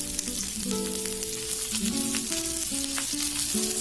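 Small onions, green chillies and tamarind frying in a pan for onion chutney give a steady close sizzle with occasional stirring scrapes, with no talk.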